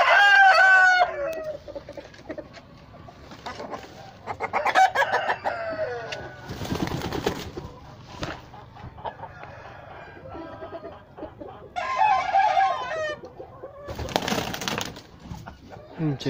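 An 18-month-old English fighting rooster crows and clucks repeatedly nearby, with bursts of flapping or rustling between the calls.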